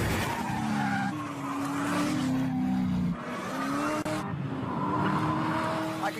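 A Chevrolet Corvette ZR1 accelerates and brakes hard, its engine note rising and falling through several pulls while tires squeal and skid, loud and close, with no one talking.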